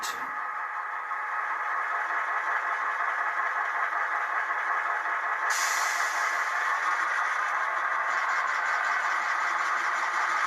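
A ScaleTrains SD38-2 model diesel locomotive throttles up toward notch 8, a steady droning engine hum that holds loud and grows slightly brighter partway through, with no talking.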